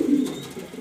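Pigeons coo at a loft of colourful birds, a low throaty warble that swells early and then fades to a softer murmur, close by and alone.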